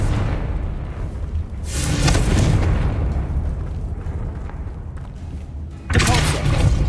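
Confringo blasting spell explosions in Hogwarts Legacy, two loud booming bursts with a rushing roar between them, the second erupting sharply near the end, with faint voices underneath.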